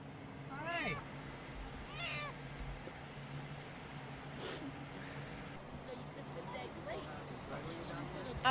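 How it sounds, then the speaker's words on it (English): A trapped kitten in a storm drain gives several distinct, echoing meows, close and plaintive, with quieter cries later, over low background rumble and faint murmuring voices. "I heard the little cat meowing and trying to get out"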